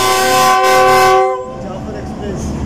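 The Jaffar Express blows a loud, sustained multi-tone horn close by, which cuts off after about a second and a half and leaves the rumble of the passing train.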